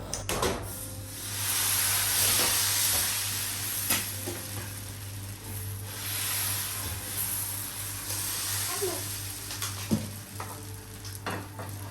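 Steady sizzling of thin neer dosa batter spread on a hot pan, a continuous frying hiss with occasional light scraping and clinks of utensils, close and moderately loud with no talking.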